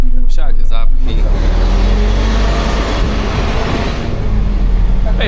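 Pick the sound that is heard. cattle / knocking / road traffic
road traffic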